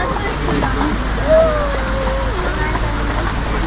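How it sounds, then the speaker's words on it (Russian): Rain falls outdoors at a rural German village barrel-striking festival, a steady soft hiss that persists throughout, with a voice briefly audible over it. "Так, я стою под дождем, звоню Ире."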